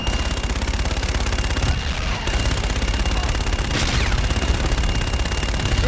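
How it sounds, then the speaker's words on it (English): Aircraft gun run strafing fire in the Call of Duty Infinite Warfare video game, a loud, continuous roar of rapid automatic cannon fire sustained throughout without a break. "Roger, inbound for gun run."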